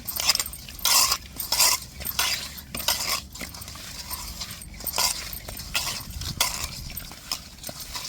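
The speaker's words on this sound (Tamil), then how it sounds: "இப்போ உப்பை போட்டு நல்லா உரசுவோங்க." Rock fish rubbed firmly with coarse salt by hand, giving close, repeated gritty scrapes and light clattering bursts in an uneven rhythm, with no talking.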